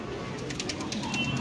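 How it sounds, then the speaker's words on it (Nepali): A pigeon coos softly among black Japanese chickens in a poultry setting, with low murmuring calls under a steady background hum. "यो पिजन परेवै हो"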